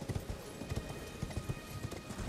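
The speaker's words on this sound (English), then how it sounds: "So now if you hold triangle and press down, you summon the horse." A horse in the video game Elden Ring gallops, its hooves thudding in a quick, steady clip-clop rhythm, soft and fairly faint.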